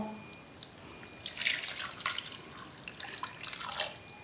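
Water streams steadily into a pot of free-range chicken close by, with splashing and a rising gush midway, over a few seconds.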